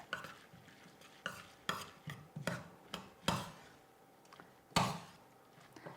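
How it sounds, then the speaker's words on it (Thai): A spoon stirs and mixes bamboo shoot soup with sliced culantro in a bowl, producing a series of quiet, irregular clinks and scrapes with no talk. "คลุกเคล้าทุกอย่างให้เข้ากันค่ะ"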